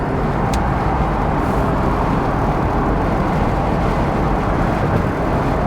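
A Mazda RX7 with flat-spotted tires accelerates onto the highway in third gear, a loud, continuous engine drone mixed with heavy road and wind roar from inside the car, steady throughout.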